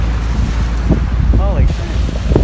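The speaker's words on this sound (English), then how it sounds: "these are, you know, steeper, choppy waves than we usually get in Lake Superior" Steep, choppy waves slosh and roll around a small boat on Lake Superior near the St. Mary's River, with steady broadband wash and wind buffeting the microphone, close and loud, a brief voice-like tone partway through.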